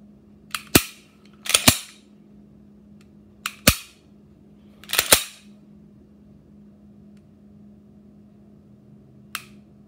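Pistol shots from an HK P30 SK fitted with a Gray Guns short-reset trigger: sharp, loud reports in quick pairs and singles, about six in all, spread over several seconds with quiet gaps, ending with one fainter distant-sounding shot.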